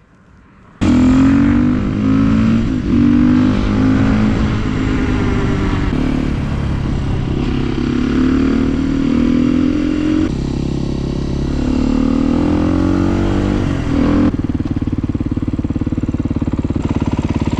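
A Chinese supermoto motorcycle rides along a partly hidden road, its engine buzzing loud and close, rising and falling with throttle changes and a gear shift, running continuously without talk.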